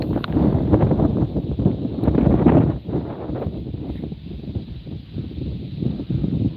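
Wind buffets the microphone in a continuous low rumble beside the Passadumkeag River in Maine, gusting stronger and easing at moments, with no voices present.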